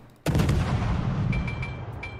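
Warship guns firing in a naval combat game, with a heavy boom at the start followed by a long rumbling roar and several faint, high pinging tones over it.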